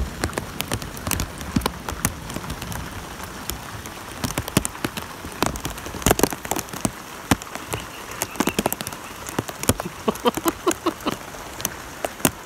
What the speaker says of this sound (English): It's pouring down, so it's another nice thunderstorm on Tuesday night